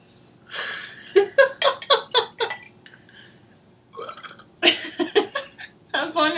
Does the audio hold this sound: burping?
yes